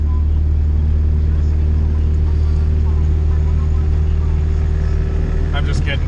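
A B-series engine in a car strapped to a racing dyno drones loudly and steadily throughout, the low exhaust note holding a constant pitch through the pull.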